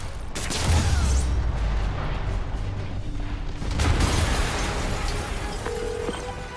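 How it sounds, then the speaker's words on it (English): A large explosion in the video game Marvel's Spider-Man on PC, with a booming, rumbling blast that starts abruptly and then continues as a loud, sustained roar of debris and low-end rumble. "an explosion just"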